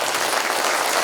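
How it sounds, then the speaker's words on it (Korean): Applause from an audience at a Korean book-launch event, honoring a guest introduced on stage; steady, dense clapping across the whole moment with no talk over it. "한번 박수 좀 부탁드리겠습니다"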